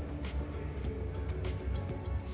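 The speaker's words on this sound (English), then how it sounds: "If by chance a rodent enters the godown, a buzzer will beep." An electronic buzzer for rodent detection in a grain storage godown sounds a thin, steady high-pitched tone that runs for about two seconds under low background hum.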